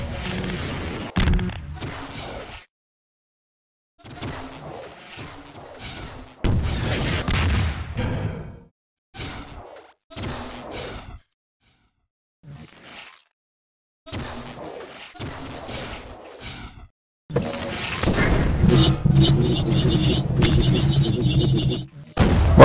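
RPG rockets exploding in a Half-Life 2 Deathmatch game, a series of sharp booms and crashes scattered among quiet gaps, with heavier, sustained blasts toward the end.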